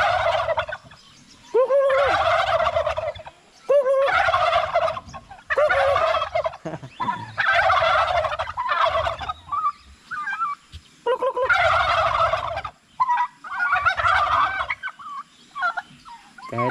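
A flock of turkeys on a farm gobbles loudly and repeatedly at close range, with bursts of rapid warbling calls overlapping one another and brief pauses between them, plus some clucking in the background.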